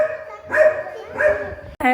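A small dog at a village farm gathering gives two sharp yipping barks close by, followed by the start of another, with some faint background noise.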